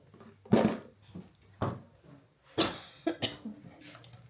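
Several short, raspy coughs come in bursts, close by and fairly quiet, with brief pauses between them in an otherwise still room.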